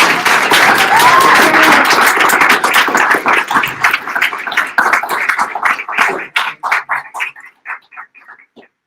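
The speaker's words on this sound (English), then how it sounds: "One more round of applause for your students." Graduates of the Erskine Green Training Institute get loud, dense applause from the audience at their ceremony, with a brief whoop early on; the clapping gradually thins into a few scattered, separate claps before stopping.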